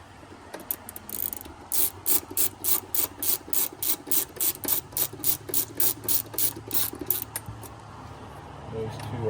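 A hand ratchet clicks in a quick, regular series of about twenty close strokes while loosening fat-headed bolts on a Porsche Cayman engine cover, then stops.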